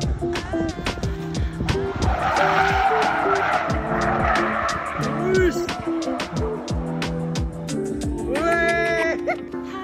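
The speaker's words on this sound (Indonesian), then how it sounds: "Banyak yang gagal drifting juga, contoh seperti di video berikut." A car drifting with its tires skidding and squealing loudly and continuously, the engine revving underneath, while other sounds briefly break in near the end.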